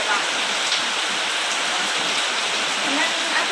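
Heavy, continuous rain pours down steadily as an even, dense hiss that fills the whole stretch with no letup.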